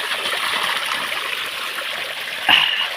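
Clean water pours from a bamboo spout in a steady, close trickling stream, with a brief louder splash near the end.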